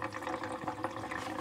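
Old gasoline is poured out of the fuel tank of a barn-find Triumph Spitfire, making a soft, continuous sloshing trickle of liquid at low volume.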